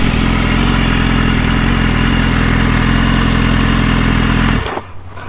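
A 2015 BMW S1000RR motorcycle idles steadily and loudly up close with an even, throbbing engine note, then cuts off near the end, leaving quiet.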